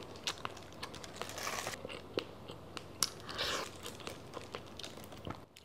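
Someone eats chewy bánh tráng trộn, Vietnamese mixed rice paper salad, up close: soft crunching, smacking bites and wet chewing with sharp little clicks, steady and quiet, without talk.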